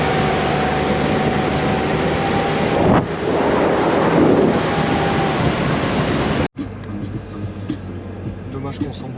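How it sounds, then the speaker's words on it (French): Strong wind buffets the microphone over rushing surf on a long white sand beach at Cape Le Grand in Australia. The roar is loud and continuous, then cuts abruptly to a quieter outdoor scene where some speech is heard. "C'est la plage de sable blanc la plus longue du monde."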